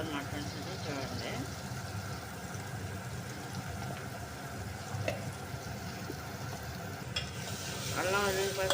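Ginger garlic paste and turmeric fry in hot oil for a mutton and drumstick curry, giving a steady sizzle and scraping stirs under a person talking throughout.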